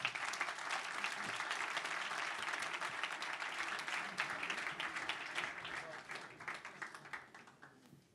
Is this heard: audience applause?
yes